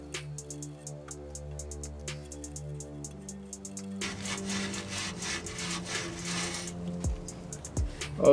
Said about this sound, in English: I'm going to get a wire brush right now, and I'm going to clean it a little bit before I reinstall.